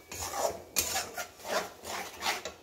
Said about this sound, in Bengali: টমেটো পেস্ট দিয়ে একটু নেড়ে কষিয়ে নিয়ে পরে আমি কাজু বাদাম পেস্টটি দিয়ে দেবো।